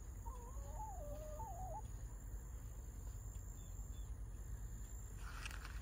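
Chickens in a farmyard near a shed, with a quiet cluck and warbling call early on over a steady hum of background noise, somewhat distant and faint.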